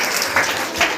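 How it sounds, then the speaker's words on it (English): A brief burst of clapping from an audience at a school Independence Day celebration, fairly loud and close, with a couple of sharper swells. "Give her a big clap."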